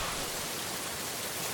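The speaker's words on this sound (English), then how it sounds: "It's not supposed to be bloody raining, mate." Steady, soft rain falls with a continuous, even hiss, faint and unbroken with no voices.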